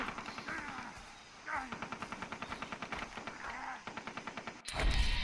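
Rapid bursts of automatic gunfire in the video game Far Cry 3, rattling in quick regular shots with voices and game sounds mixed in, ending in a louder blast.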